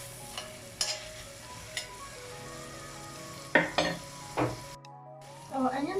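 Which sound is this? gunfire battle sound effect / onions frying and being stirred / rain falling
onions frying and being stirred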